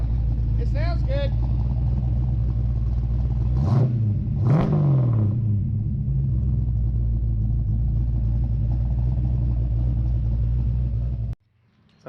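A Ford Mustang engine with freshly adjusted carburetors runs steadily at close range with a deep continuous rumble, rising briefly in a couple of revs early on before settling back, then cutting off near the end.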